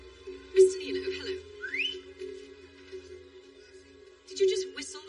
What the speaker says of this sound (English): Did you just whistle at me?